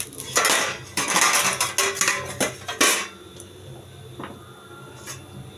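A lid lifted off a pan of frying chakli batter, with a cluster of loud metallic clatters and scrapes in the first three seconds, then a quiet sizzle with a couple of faint clinks.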